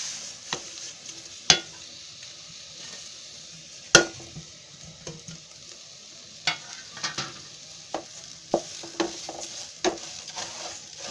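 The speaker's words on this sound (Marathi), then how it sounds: "ही भाजलेली जी शेव आहे ना ती मी आता त्याच्यामध्ये टाकते" Roasted vermicelli stirred in a pan of upma with grated fresh coconut over a low flame, producing scraping and stirring, a soft background sizzle, and occasional sharp clinks of a utensil against the metal pan.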